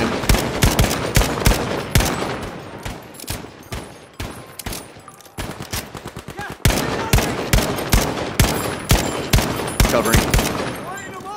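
Sustained gunfire in Battlefield 5 on the Twisted Steel map, loud rapid bursts and repeated sharp shots cracking close by for several seconds, with voices faintly underneath.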